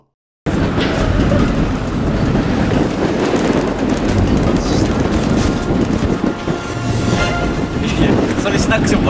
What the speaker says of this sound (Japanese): それしなくても分かる程度の風吹いてます。